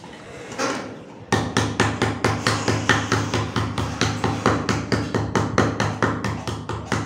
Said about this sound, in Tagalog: Kunin ko lang po yung martilyo.